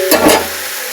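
Bottle gourd, potato and shrimp seasoned with salt and turmeric are stirred in a hot pan: a loud, brief scrape-and-sizzle burst that fades into a softer, even hiss.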